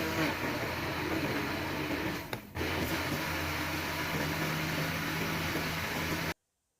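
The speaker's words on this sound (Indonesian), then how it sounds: "Tomat di blender" Blender grinding chopped tomatoes with no water added, a steady loud whirring drone with a brief dip in the middle before it resumes, then cutting off abruptly at the end.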